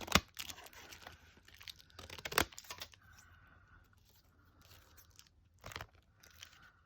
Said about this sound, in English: We're just trimming off the excess.